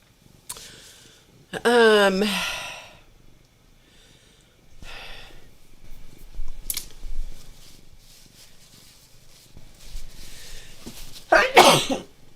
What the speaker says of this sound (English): I have sneezed so hard today.